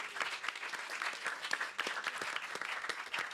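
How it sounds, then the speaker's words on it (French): A television game show studio audience bursts into applause after a correct answer: dense, sustained clapping with no single voice over it. "on peut l'applaudir très fort"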